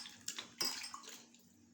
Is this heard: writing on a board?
no